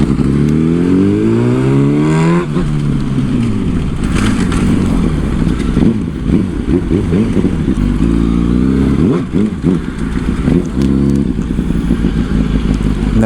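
A 2008 Yamaha R1 sportbike is ridden hard, its engine loud and close, climbing through the revs and shifting gears with repeated rising and falling sweeps under wind rush.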